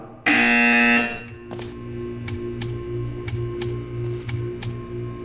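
A loud, harsh electronic buzzer in Portal 2 blares for under a second, then cuts off, leaving a low steady hum with regular faint clicks ticking along.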